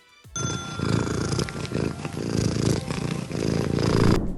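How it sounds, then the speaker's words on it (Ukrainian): A cat's loud, rumbling purr close to the ear, continuous and throbbing with a steady rhythm, lasting several seconds without any voices. "Гучність її муркотання порівняна зі звуком киплячого чайника або пральної машини."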